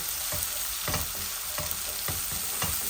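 A large red onion fries in hot oil with a dense, constant sizzle, and a regular scraping stir thumps through it roughly every half second, close and fairly loud.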